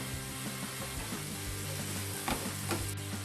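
Green chilies added to a pan for Kerala-style pearl spot fish mappas fry with a quiet, steady sizzle, with a faint low hum and a couple of light scraping knocks near the end.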